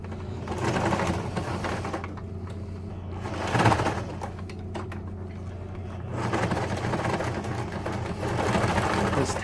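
A sewing machine stitches back and forth across a fabric tab, its steady mechanical whir running continuously, rising and pausing briefly as the direction reverses, close and loud.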